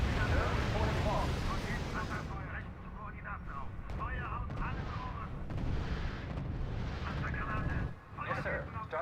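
Artillery fire on units in the R.U.S.E. strategy video game: a continuous heavy rumble of shelling and explosions with a brief dip near the end, and voices can be heard under it.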